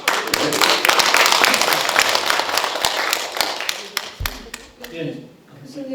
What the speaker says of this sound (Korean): 박수로 격려해 주세요.